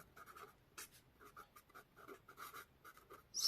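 Chalk or a marker writes a math equation on a board, making quick scratchy strokes in short irregular bursts, faint and close, with no talking.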